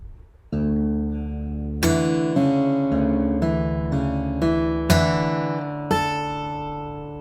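An acoustic guitar rings out in a short phrase of tap strums with hammer-ons and pull-offs, several sharp percussive attacks followed by sustained, resonant notes, close and clear without any talking.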